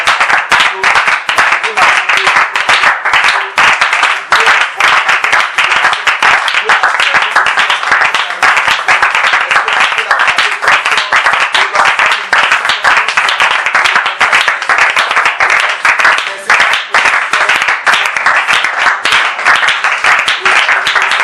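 Loud, continuous applause and cheering from a church congregation at a Christmas family service, many hands clapping densely for the full stretch with shouts mixed into the roar.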